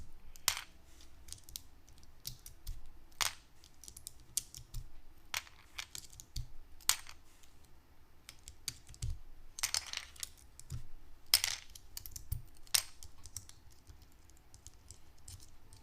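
A GAFF60 keyboard fitted with Moyu Black switches and foam is typed on in scattered, quiet clacks with short bursts and pauses, close and isolated.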